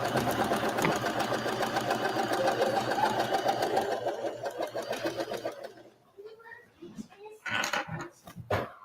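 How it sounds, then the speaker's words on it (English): A sewing machine stitching flannel fabric for a small bean bag in a kids' sewing class, a loud, steady mechanical whir that runs for several seconds and then stops, followed by quieter handling noises and brief voices. "this machine was great to use to make these little bean bags"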